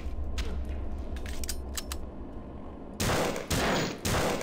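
Gunfire in the video game System Shock 2: a dense burst of rapid shots in the first half, followed by a harsher, louder metallic blast and crackle after a brief gap.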